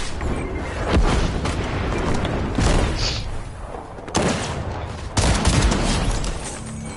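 Repeated gunshots and booming blasts in the video game Fortnite, loud and close, arriving in irregular bursts over a steady rumbling background with no voices.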